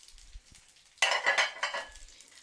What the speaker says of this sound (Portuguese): Agora vai fritar